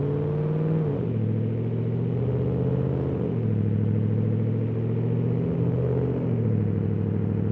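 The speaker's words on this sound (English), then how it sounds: "Love the exhaust note. The exhaust note is just beautiful." A car's exhaust note burbles steadily while it is driven slowly, a loud, continuous low engine rumble that shifts pitch slightly with throttle changes and carries no talk over it.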